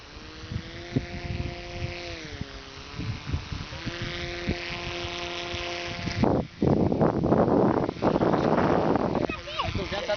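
Wind gusts buffet the microphone at an outdoor paragliding field, a low roaring rumble that swells into loud bursts in the second half, with people talking throughout.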